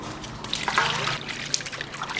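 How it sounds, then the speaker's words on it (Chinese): Tap water trickles and splashes steadily while green onions are rinsed in a home kitchen, close and moderately quiet, with small drips and sloshes. "洗一点葱吧"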